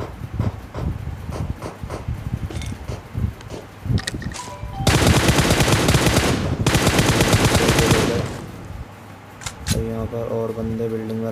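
Heavy gunfire in a shooter video game, where an S686 shotgun is fired, with loud repeated shots and a long sustained burst midway, alongside a person talking.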